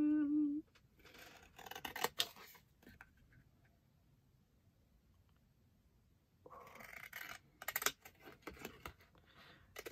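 Scissors snip and cut through paper in quick bursts of sharp crisp clicks, separated by a quiet stretch, close up with no talking.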